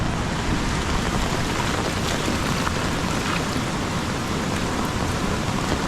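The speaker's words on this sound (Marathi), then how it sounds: "मुसळधार पाऊस." Torrential monsoon rain hammers a Konkan village as the Kajali river floods, producing a thick, constant hiss and roar at even loudness from start to finish, with nobody talking.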